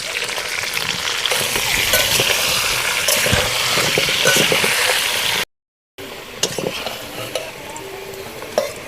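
Potatoes frying in oil with salt and turmeric for mutton biryani: a loud, steady sizzle close by, with stirring scrapes, a brief silent break, then more sizzling and clinks.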